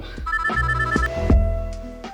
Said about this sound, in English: Oh, hold on a minute, my phone's ringing.